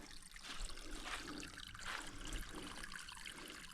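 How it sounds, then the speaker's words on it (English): A small trickle of water runs from a trail water source on the Appalachian Trail, a steady, soft, gurgling flow heard close by with no voices. "Little trickle coming out of there."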